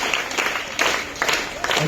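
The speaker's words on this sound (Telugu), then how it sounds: "క్లాప్స్ ఇవ్వండి." Students clap at a high school prize-giving for kabaddi and kho kho, several short bursts of crowd applause rising and falling, with voices talking over them.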